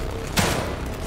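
A single gunshot fires in The Evil Within 2, a short sharp burst that fades quickly over a steady low game background.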